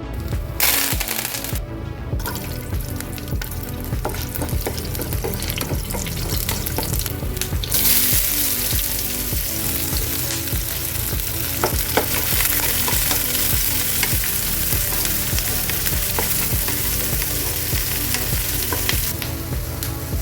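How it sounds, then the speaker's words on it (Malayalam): Mustard seeds, curry leaves and dried red chilies fry in coconut oil for a Kerala-style ivy gourd thoran, a loud, dense, continuous sizzle and crackle up close that runs on steadily, with brief stirring disturbances and no voices. "നമുക്ക് കടുകും കറിവേപ്പിലയും കുറച്ച് വറ്റൽ മുളക് നമുക്ക് ഇതിലോട്ട് ഇട്ട് കൊടുക്കാം"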